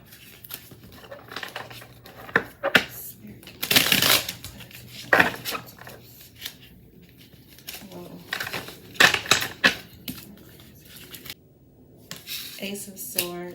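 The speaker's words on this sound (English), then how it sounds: "actually, let me keep shuffling." Tarot cards are shuffled by hand in scattered bursts of papery riffling and slapping, with quiet pauses between, plus a sharper flurry near the middle and another toward the end.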